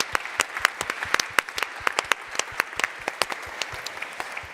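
Audience applause for Phil Randerson, CEO of Hot Topics, at a Tech Girl competition event in a studio: a modest group clapping steadily, with crisp individual claps standing out, close and continuous for several seconds.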